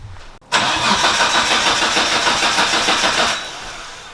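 A fully built Nissan GT-R with a 2.8 stroker HKS single-turbo engine on E85 cranks and fires into a loud, steady, rough roar close by, then settles slightly toward the end.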